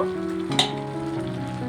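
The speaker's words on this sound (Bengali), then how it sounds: "এখন আমি জল অ্যাড করব।" Water poured into a pan of bottle gourd curry that was sizzling with turmeric and salt: a steady, close frying hiss with a brief splash-like burst near the start, no voices.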